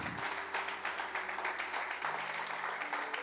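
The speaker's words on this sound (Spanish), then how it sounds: "Dale un fuerte aplauso." A church congregation applauds during a sermon, a dense rhythmic clapping that rises and falls steadily, heard close, with sustained organ or keyboard chords underneath.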